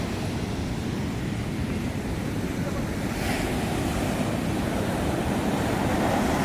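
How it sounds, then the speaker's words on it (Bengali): Rough, churning sea waves at Cox's Bazar beach roar in a steady, loud wash of surf with wind buffeting the microphone throughout, no pauses between breakers. "সমুদ্রের দৃশ্য দেখতে পাচ্ছেন, খুবই উত্তাল আজকে সাগর।"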